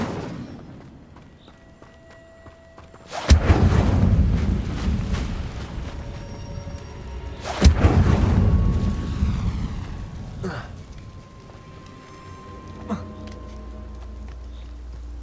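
Two loud fiery bursts of the Incendio spell in Hogwarts Legacy, each a sudden roaring whoosh that slowly fades, separated by a few seconds, with game ambience and a brief softer third effect later.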